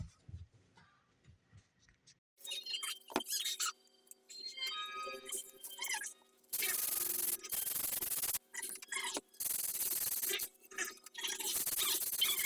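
Sandpaper rubs back the yellow finish on a guitar body in a workshop, coming in rhythmic scratchy strokes of varying length after a quiet start with faint tapping, close and fairly loud.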